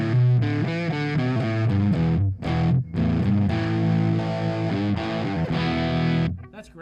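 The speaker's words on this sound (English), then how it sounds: "That's a great sound of distortion." Heavily distorted electric guitar plays sustained chords with a couple of brief cutouts, loud and saturated, ending in a short noisy flourish.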